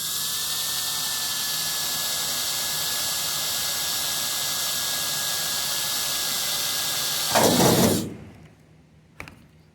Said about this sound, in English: you'll need to drill the 6th hole, number 30 size hole in the skin